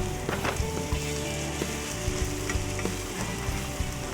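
Scrambled eggs cook well done in a hot pan, browning as they go, giving a continuous crackling sizzle with faint stirring scrapes, close and steady with no talking.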